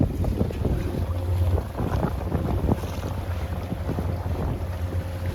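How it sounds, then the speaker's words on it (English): Steady wind rushes and buffets across the microphone aboard a 24-foot San Juan sailboat under a large genoa sail, a continuous close roar with low rumbling gusts and faint water sounds beneath. "this wind came out of absolutely nowhere"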